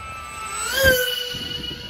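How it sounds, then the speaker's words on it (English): A model flying-wing aircraft passes by with a steady whining, drone-like tone that swells and bends in pitch as it goes over, then fades slightly. "Sounds like a drone, but it's just the wing."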